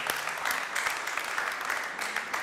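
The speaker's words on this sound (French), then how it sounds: "On peut applaudir pour nos Banco." Studio audience on a French TV game show set clapping, a brief dense burst of applause at moderate distance, with no talk over it.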